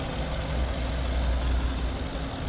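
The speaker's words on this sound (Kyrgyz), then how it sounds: "Мотордун иштеши жакшы." A car engine idling steadily with a low, even rumble and a faint knocking texture, heard close and continuous without talk.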